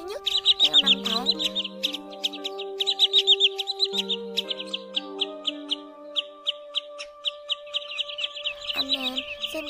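Common greenshank calls ring out in quick repeated bursts of sharp, high whistled notes, fairly loud and close, over sustained lower tones that shift in pitch.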